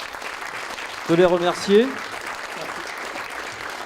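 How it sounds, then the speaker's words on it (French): An audience at an after-work conference claps in a steady, even patter while a voice speaks briefly over the applause. "je vous demande d'applaudir nos intervenants"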